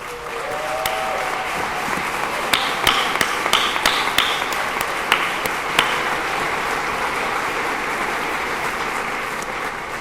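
Audience applause at a PechaKucha evening in San Antonio, a steady wash of clapping from a crowd with a few sharper, louder claps standing out nearby.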